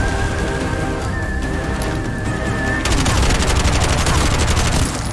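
Sustained automatic gunfire in the first-person shooter Bright Memory: Infinite, a dense rapid rattle that starts mid-scene and continues loud and steady to the end, over a bed of game music and ambience.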